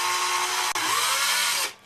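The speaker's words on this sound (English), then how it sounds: "Again, working with plastic, low revs. Let the drill bit do the work." A power drill runs steadily at low revs as the bit bores through plastic, giving a loud continuous whirring grind that cuts off abruptly near the end.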